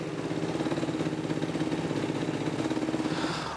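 A rebuilt Yamaha YFZ450R ATV engine idles through its first heat cycle. A steady, loud, close single-cylinder putter runs evenly the whole time, with no talk over it.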